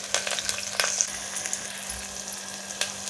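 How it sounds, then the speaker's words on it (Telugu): Curry leaves crackling in hot oil, a close, continuous sizzle with small pops and spits scattered through it. "కరివేపాకు కూడా వేసుకొని ఫ్రై చేసుకోవాలి చక్కగా."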